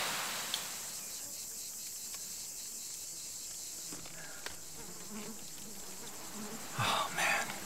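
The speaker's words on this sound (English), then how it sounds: "I can just hear the mosquitoes are buzzing and they're echoing" Mosquitoes in bug season around a canoe, a faint steady high whine and buzz that hangs in the air for the whole stretch, with occasional small knocks and a brief louder rustle near the end.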